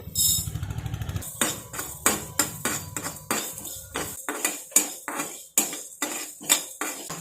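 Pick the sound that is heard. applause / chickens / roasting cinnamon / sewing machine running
roasting cinnamon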